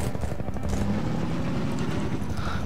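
A helicopter in a Half-Life custom map, its rotor chopping out as a low, steady thrum with a pulsing rhythm that stays loud and close throughout, with no talking.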